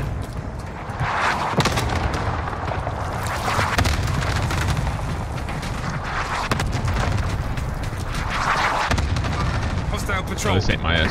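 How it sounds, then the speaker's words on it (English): Cluster strike explosions rumble and boom across Rebirth Island in Call of Duty, a dense, continuous barrage of blasts with bursts around two, four and nine seconds, mixed with gunfire and game noise. "Allied cluster strike arriving."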